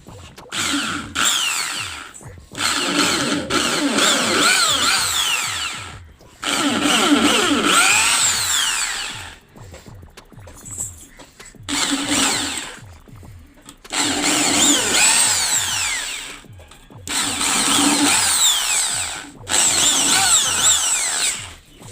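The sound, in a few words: drilling screw holes in a speaker box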